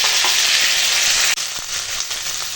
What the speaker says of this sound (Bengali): এখন দিয়ে দিলাম চাল কুমড়ো